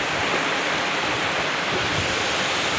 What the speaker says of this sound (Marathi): तर पाणी खूप जोरात चालू आहे.